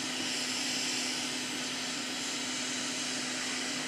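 A hot air tool blows onto a BMW DME MSD80 engine control circuit board, giving a faint, constant breathy roar with a steady low hum and no change throughout.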